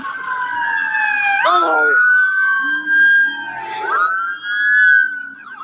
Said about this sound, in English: I could do without the sirens